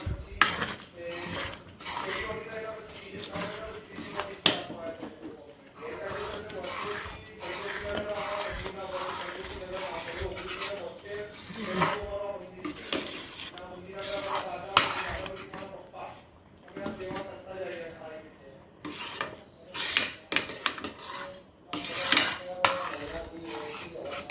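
Puran mixture stirred in a pot after poppy seeds go in, a spoon scraping and knocking against metal in a busy, uneven rhythm, close and fairly loud, with a voice at times.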